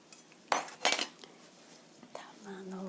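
A few light clinks and taps as cherry tomatoes are set down on a plate, quiet and close, with soft movement between.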